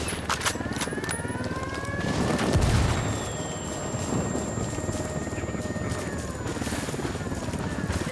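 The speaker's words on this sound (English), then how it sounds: "Fuck, we got mortars incoming!" Mortar shells burst amid gunfire in the Ghost Recon Wildlands game on Xbox One, with a heavy low-frequency boom rolling out around the middle over a steady bed of crackling shots and battle noise.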